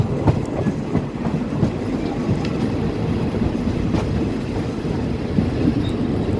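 A passenger train on a Thai railway line near the Pha Sadet and Hin Lap tunnels rumbles along the rails with a steady low roar and faint rhythmic clacking of wheels, heard from inside a moving carriage.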